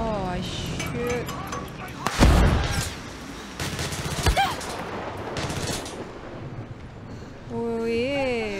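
Gunfire in the shooter Far Cry 6, mixed into a busy game soundtrack: one heavy blast stands out among scattered shots and a rumbling background, with a person talking over parts of it.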